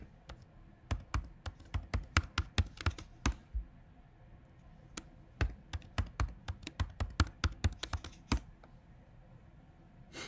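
Keys clack on a computer keyboard as a new Pi-hole password is typed on a Raspberry Pi setup, in irregular bursts of close, crisp taps with brief pauses between runs.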